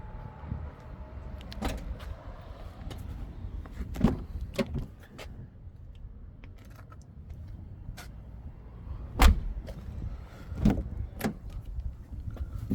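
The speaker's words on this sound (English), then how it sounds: "Push this to shut the tailgate." A powered tailgate closes on a 2022 BMW X1 sDrive 20i xLine: a low motor hum runs steadily beneath a few sharp clicks and knocks, with a firm thud near the end as the tailgate latches.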